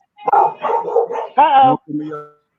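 Yappy, high puppy-style barks from a voice imitating puppies, several short bursts in quick succession, loud and close, with laughter-like vocal texture around them.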